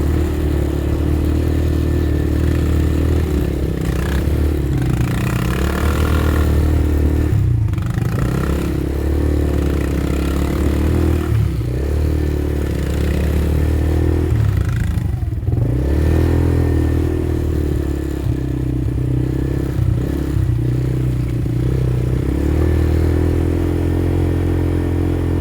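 A dirt bike ridden through woodland, its engine droning loudly and continuously for the whole stretch with repeated revving surges, plus clattering and scraping as the bike moves over rough ground.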